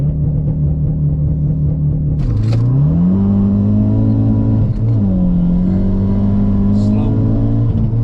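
A Ford Focus RS MK3 accelerates hard from 0 to 60 mph. Its engine note climbs steadily and loudly, dips briefly at a gear change and then rises again, with a slipping clutch. A low rumble sits underneath throughout.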